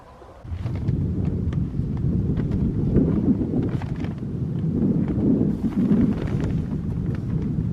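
Steady wind gusts of around 12 mph roar against a microphone outdoors, a dense, continuous low rumble that swells and eases over several seconds, with faint rustles and no talking.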